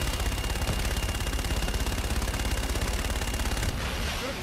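Sustained rapid automatic gunfire in Call of Duty Infinite Warfare, a loud dense burst of shots lasting several seconds before cutting off to quieter ambience.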